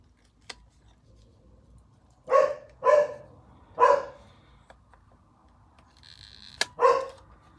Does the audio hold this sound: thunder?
no